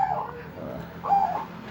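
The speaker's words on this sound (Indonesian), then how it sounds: "Saya main burung perkutut. Melatih burung perkutut." Zebra dove (perkutut) cooing twice in soft, rounded phrases at close range, with quiet background sound between the calls.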